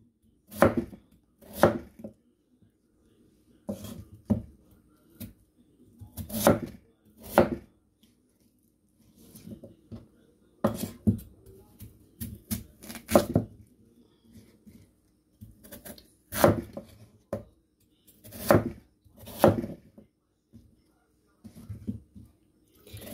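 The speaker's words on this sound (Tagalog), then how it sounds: "So, hiwain po natin ito ng cubes." Chicken is cut into cubes with a knife for adobo: bursts of sharp chopping strikes land on a board in irregular clusters, separated by short quiet gaps.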